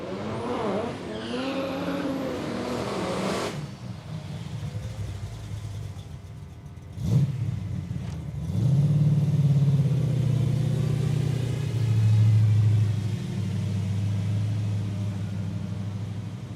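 A drag racing car at Palmyra Raceway in Australia, during a road-trip drag challenge, roars down the track after a sharp launch burst midway, its loud, steady engine drone carrying to the end of the run.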